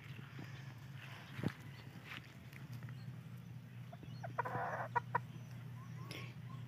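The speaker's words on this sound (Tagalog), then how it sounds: "Daming manok." Chickens clucking softly at a rural home yard, a few faint, scattered clucks over a low background hum, fairly distant and quiet.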